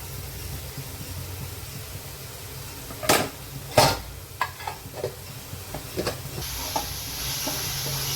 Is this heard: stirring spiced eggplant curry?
yes